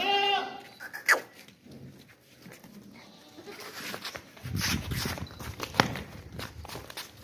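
Goats for sale at a livestock market, with bleats and scattered shuffling footsteps over a busy, uneven background of handling noise, close and moderately loud.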